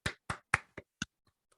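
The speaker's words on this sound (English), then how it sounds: "Nice little clap for him." A commentator claps his hands five times in a quick, slightly uneven rhythm. The claps are close and crisp with nothing else behind them, followed by a couple of faint taps.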